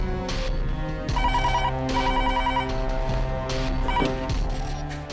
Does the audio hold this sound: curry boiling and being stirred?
no